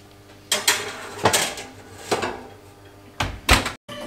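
An oven being worked while a petit gâteau comes out: several distinct clunks and metallic knocks of the door and rack, spaced apart, close and fairly loud, ending in a brief silence, with no one speaking.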